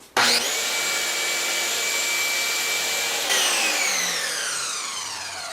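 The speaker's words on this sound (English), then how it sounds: "I'm going to turn the laser on, and I have to turn the saw on to do that so you won't be able to hear anything." A power saw used for building a bookcase whines up to a loud, steady high-pitched drone, shifts pitch partway through, then slowly winds down, close and alone.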